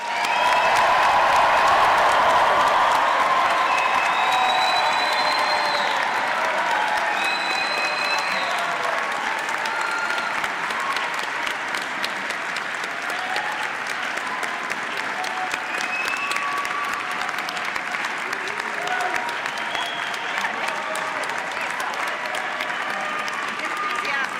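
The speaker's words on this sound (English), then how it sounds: "please join me in applauding the June 2026 graduates." Sustained applause from a large audience at the June 2026 Simon Fraser University convocation ceremony, a dense steady roar of clapping that holds loud for the full stretch with a faint crowd murmur beneath.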